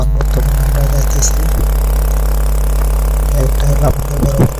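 An engine runs on a boat carrying goods for a festival, a loud, steady low drone with clattering knocks, while people talk over it.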